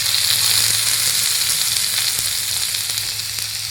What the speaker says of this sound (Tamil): முதல்ல ஆயில் ஊற்றிப்போம். வெங்காயம் வந்து நம்ம தாராளமாக போட்டுக்கலாம்.